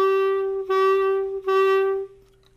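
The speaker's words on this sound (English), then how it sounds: "Notice how I'm playing the notes super long and connected without much space between those notes." Three long, sustained tenuto notes on a single steady pitch, played smoothly and connected with only tiny dips between them, then fading out; a clear, solo melodic instrument tone.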